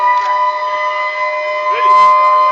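An emergency siren sounds at a building demolition site on Bree Street in Cape Town, a loud sustained steady wail that carries unbroken through the short clip, with faint voices nearby.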